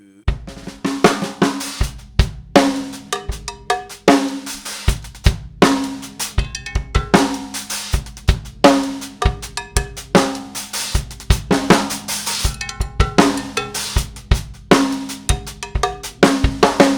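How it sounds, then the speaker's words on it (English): Both bells of a Latin Percussion tom bell setup are struck in a syncopated, funky groove with two distinct metallic pitches, loud and close, ringing continuously in a repeating pattern. "Let me play something a little bit funky for you with both bells"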